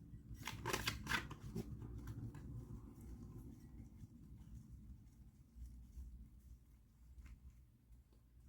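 A deck of cards is shuffled and more cards are laid out during a tarot reading, giving a quick riffling flutter at the start that settles into soft, close handling and faint card slides at low volume.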